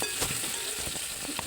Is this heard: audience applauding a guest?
no